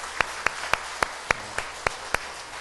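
A church congregation claps for the choir during a Sunday service, a series of crisp, evenly timed claps in a steady rhythm with no speech.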